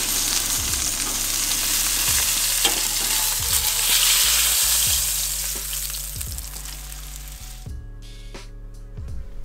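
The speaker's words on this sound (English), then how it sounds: "And this pan is really hot. Pretty good sear going." A steak sears with garlic in a very hot pan, giving a loud, close, continuous sizzle with scraping stir strokes. The frying fades toward the end, leaving quieter clatter.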